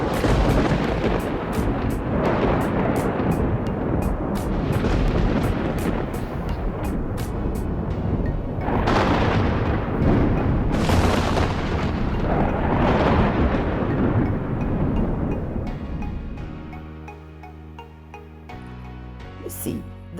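Thunder from a lightning strike: heavy, loud rumbling with crackling bursts that rolls on for about fifteen seconds, then fades into quieter sound.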